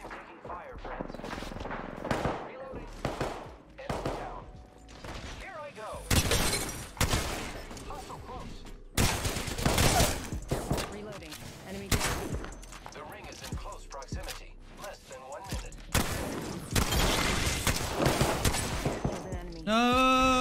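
Flatline rifle fire in Apex Legends, with several loud bursts of rapid shots and glass-like shattering, separated by quieter gaps, while people talk over the action.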